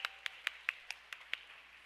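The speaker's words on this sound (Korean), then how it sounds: "우리 여호수아 찬양대 친구들을 위해 한번 박수할까요?" Faint, evenly spaced claps, about seven in under two seconds, rise from a church congregation for a youth choir, a thin sparse pattern rather than a full ovation.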